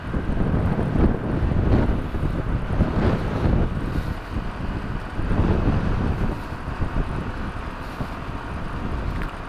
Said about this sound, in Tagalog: Sarap ng hangin guys